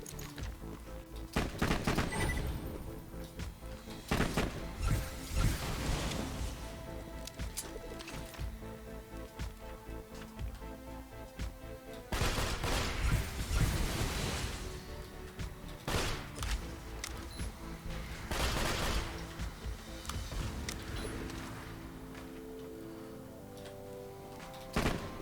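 Rapid gunfire from a weapon in the video game Borderlands 2 during a Digistruct Peak raid, loud bursts of shots recurring in clusters over a busy game soundscape with thuds, no talking.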